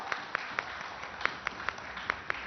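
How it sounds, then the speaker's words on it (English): Scattered, sparse handclaps from a summit audience welcoming a session moderator, a handful of distinct, fairly quiet claps spaced unevenly rather than a full ovation. "A huge round of applause"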